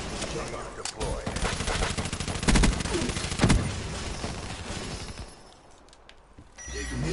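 Rapid loud gunfire from a shotgun in a video game, with dense overlapping blasts and several heavier booms in the middle before it thins out, and a voice speaks over it.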